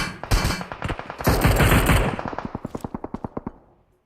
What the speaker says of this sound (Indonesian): Dia nembak gue loh.